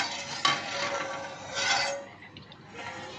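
A metal pot of sooji halwa is set on the stove, with scraping and clinking of cookware, a sharp knock near the start, then softer rubbing and stirring sounds, close and fairly quiet.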